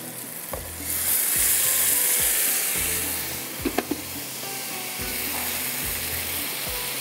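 Ground tomatoes frying with onions and spices in a pan give a loud, steady sizzle that swells after being added and holds throughout, with a few sharp stirring clatters partway through.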